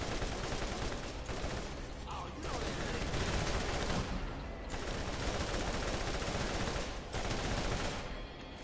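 Dense, continuous gunfire from enemies shooting at the player in the Borderlands video game, a loud, steady fusillade with brief dips, with a voice talking intermittently.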